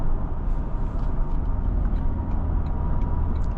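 A 2026 Toyota Sequoia Platinum cruising in eco mode, heard from inside the cabin as a steady low road-and-engine rumble with an even hum and no talking.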